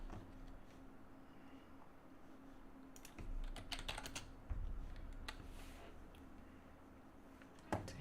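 Quiet clatter of typing on a computer keyboard, with irregular key taps over a steady low background hum, growing slightly busier midway.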